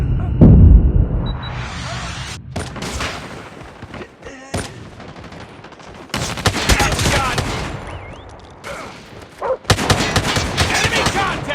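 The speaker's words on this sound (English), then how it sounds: "Sentry gun deployed." Automated sentry gun and rapid gunfire in a Hardpoint match of a shooter video game on the Shipment map, with a machine gun in play; bursts and sustained fusillades crackle loudly and continuously, with brief pauses between volleys.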